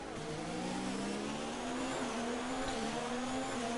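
Formula 1 race car in F1 2019, Belgian Grand Prix, engine rising steadily in pitch as it accelerates hard, a loud continuous whine held close throughout with no talk over it.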